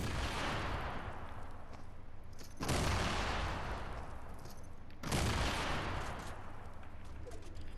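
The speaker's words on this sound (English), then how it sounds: "The Anvil rocket launcher coming to an asshole near you." Anvil rocket launcher in the video game Fortnite firing, with big explosions: two heavy booming blasts a few seconds apart over a dense, continuous roar of gunfire and rumble, loud and alone with no talk.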